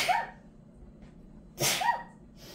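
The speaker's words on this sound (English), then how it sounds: "I'm going to sneeze." Two sharp sneezes from a woman doing fluid art painting at home, one at the start and another a second and a half later, close and loud with quiet breathing between.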